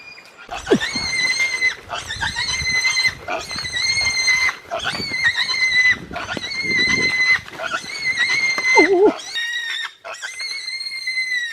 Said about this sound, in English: this guy run away with a squealing pig